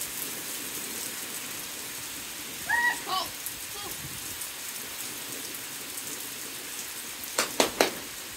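Steady rain pours down on a Filipino-American family bathing in it outdoors, a dense even hiss throughout, with a few brief voices and splashy bursts near the start and end.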